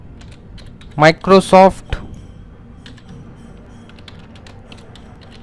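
Someone types on a computer keyboard, with soft scattered key clicks close by, and a person briefly says a word over them.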